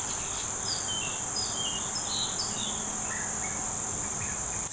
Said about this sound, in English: You hear that? The songbird up in this big oak tree.